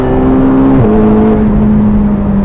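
A 2022 McLaren GT accelerates hard, its engine note rising loud and close with one brief dip like a gear change before climbing on.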